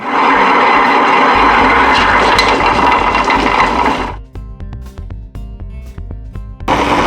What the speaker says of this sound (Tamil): வாங்க இப்போ நம்ம கிரைண்டர் போடலாம்.